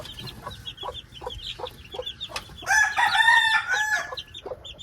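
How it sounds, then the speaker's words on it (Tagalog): Chickens cluck in short repeated calls, then a rooster lets out a loud, drawn-out crow close by, with farmyard clucking continuing underneath. "Palagay ko ito, rooster yan."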